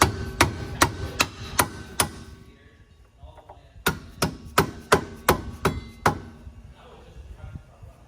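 Mallet blows on the steering knuckle of a 2021 Subaru Crosstrek while fitting Bilstein B6 struts during a suspension install, coming in two sharp rhythmic bursts of five or six close, loud strikes separated by a brief pause.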